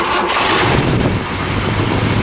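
A 1969 Mercury Cougar XR7 with a 428 Cobra Jet V8 cranks and fires up close and loud, a brief rough burst of engine noise settling into a dense rumble.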